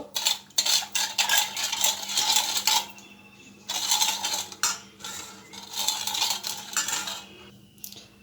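A spoon stirs sugar and yeast in a bowl to dissolve them for jalebi batter, producing rapid metallic clinking and scraping in bursts separated by brief pauses, close and clear with no talking.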